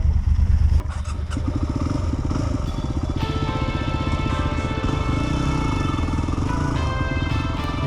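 A motorcycle engine rumbles and revs unevenly up close, with clattering and shifting pitch as it rides along rough ground.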